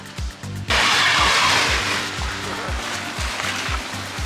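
A BMW E92 xDrive coupe lurches over rough, pitted ground, its suspension thudding in a steady rhythm of low knocks under a constant engine and road rumble, with voices heard briefly.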